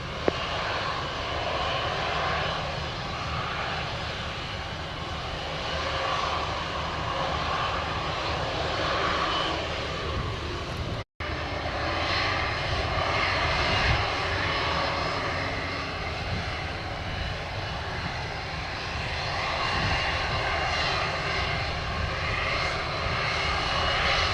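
A JetBlue airliner taxis on runway 25 at Montego Bay, Jamaica, its jet engines giving a steady, loud, broadband roar that holds nearly constant throughout, with no speech over it.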